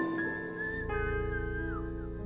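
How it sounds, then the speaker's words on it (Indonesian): Someone whistles a short melodic phrase, the tone sliding between pitches, clear and close with no talking. "tiba-tiba terdengar suara seseorang bersiul"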